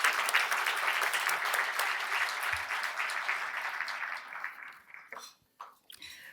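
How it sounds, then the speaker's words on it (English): Collective applause from guests at a gala dinner, a full room clapping steadily for several seconds before tapering off into a few last scattered claps and a quiet pause. "So just raise your hand and we'll take a collective applause."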